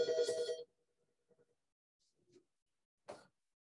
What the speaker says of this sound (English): Of all times for my phone to ring.